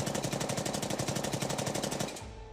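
Rapid machine-gun fire plays as a sound effect within a recited poem about the Pahalgam terror attack, a fast even burst of shots that runs steadily for about two seconds and then cuts off.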